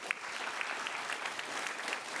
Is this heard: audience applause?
yes